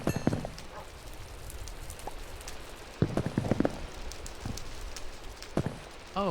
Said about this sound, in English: Raining, that's a good thing. It means our buckets will fill.